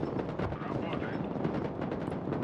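Gunfire and explosions from the tank battle video game Broken Arrow, a dense continuous barrage of shots and booms with a voice talking over the combat.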